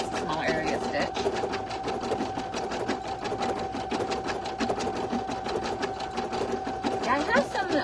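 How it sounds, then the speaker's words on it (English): An embroidery sewing machine stitches an in-the-hoop stuffie design in a 6x10 hoop, giving a fast, steady rapid needle chatter with a persistent motor hum, close and continuous throughout. "if you're stitching a smaller size in the 6x10, you'll notice that this will actually stitch a lot faster"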